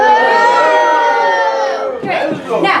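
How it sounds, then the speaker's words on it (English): A live crowd at an outdoor Robin Hood faire loudly boos the sheriff's tax collector, a sustained mass of voices that dips and then swells again into a second burst of shouting. "Give us another boo."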